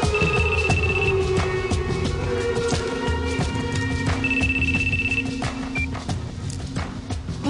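A telephone rings repeatedly over a busy, steady background in a police station setting, with electronic tones recurring at intervals and no voices heard.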